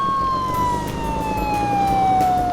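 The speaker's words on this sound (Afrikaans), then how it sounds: "Dit is 'n sirene, want ons is nou by die brandweerstasie." Fire station siren at a fire station, a steady wailing tone slowly falling in pitch, loud and continuous with faint background noise and no talk.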